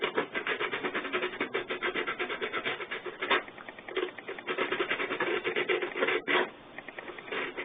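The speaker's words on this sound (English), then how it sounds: "I'm not trying to sand the whole thing down, just those rough edges." Close, steady rubbing and scraping of sandpaper against the rough edges of a cosplay helmet for a Black Ranger costume, running in quick continuous strokes with a couple of brief pauses and no talking.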